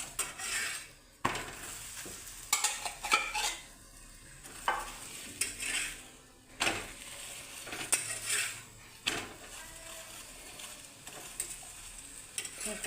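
Dhapate flatbread roasts with oil on a pan, a soft steady sizzle broken by repeated metal spatula scrapes and taps against the pan, close and fairly quiet.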